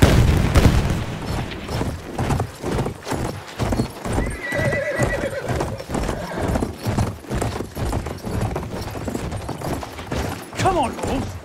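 Cavalry horses galloping in a video game, rapid loud hoofbeats with neighs and whinnies, booming explosions and gunfire in the background, and voices talking over it.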